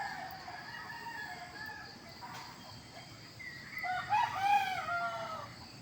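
Roosters crow on a morning farm, one fairly distant call early followed by a louder, nearer crow toward the end, over soft insect and outdoor background hum.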